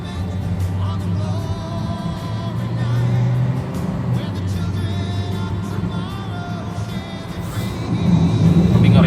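A 2010 Daihatsu Sigra with Blackcore tuning accelerates with Eco mode off, its engine humming and swelling in a rising rumble that grows louder toward the end, heard from inside the cabin.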